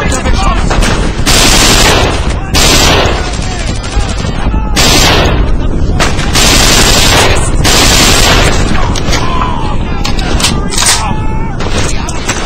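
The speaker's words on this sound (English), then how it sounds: "I trust you saw how many kabillion shots it took to hit those guys" Loud, dense gunfire from the World War II shooter Brothers In Arms: Earned In Blood, with sustained automatic bursts and single shots packed together, broken by brief lulls, while voices shout over the battle.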